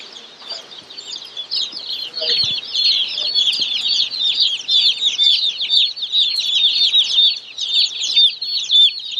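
Young chickens in delivery boxes on a farm: a dense, continuous chorus of high, rapid peeping and chirping, close and fairly loud, with a few soft thumps of movement and no talking.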